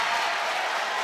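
Brief applause from a coach at a women's college basketball game between Virginia and Duke, a soft wash of clapping blended into distant arena crowd noise.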